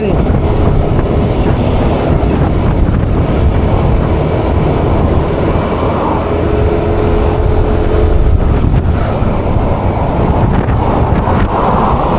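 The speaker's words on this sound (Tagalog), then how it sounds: "Lakas ng hangin." Strong wind buffeting the microphone outdoors near Twin Lakes, a constant loud rumbling roar with gusty swells that lasts throughout, with no talking over it.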